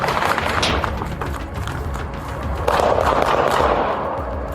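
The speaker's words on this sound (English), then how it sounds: "Seconds later, commands gave way to gunfire" Rapid bursts of police gunfire crackle through a noisy, chaotic confrontation, with sharp cracks growing louder and denser partway through.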